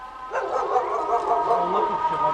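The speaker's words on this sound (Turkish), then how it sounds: "Aa bura köpek dolu" Several dogs barking and yipping at a distance, overlapping calls with some whimpering, fairly loud and continuous.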